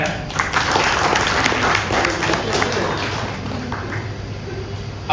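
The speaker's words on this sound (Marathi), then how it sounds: "त्यांना खूप टाळ्या" An audience at a cultural group gathering applauds steadily, a dense, continuous clapping close by that holds for the whole stretch, with faint voices mixed in.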